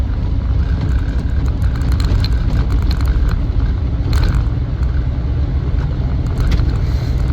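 Land Rover Defender 90 50th Anniversary edition being driven, its engine running steadily and loudly throughout with continuous road and drivetrain rumble, no voices.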